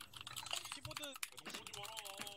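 Rapid computer keyboard typing comes through a voice chat during an Arma 3 mission, quick, irregular clicks mixed with faint voices, all quiet and a little muffled.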